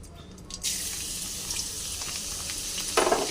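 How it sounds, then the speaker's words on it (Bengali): Garlic hits hot oil in a pan while chilli paneer with soybean is being cooked, setting off a steady, close, bright sizzle that swells louder toward the end. "তেলের মধ্যে রসুন ফোড়ন দিয়ে দিলাম"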